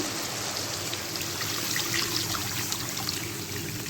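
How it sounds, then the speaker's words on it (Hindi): About two cups of water pour into a pot for daal chana pulao, a steady close trickling stream that continues without pause and without any talking. "तकरीबन 2 कप मैंने पानी डाला है।"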